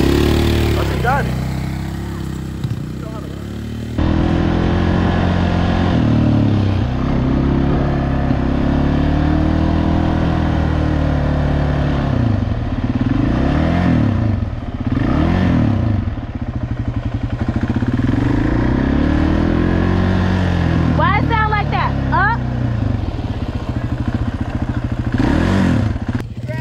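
Quad bike engine running while being ridden, a loud idling and revving chug that rises and falls through repeated throttle blips, with people talking over it throughout.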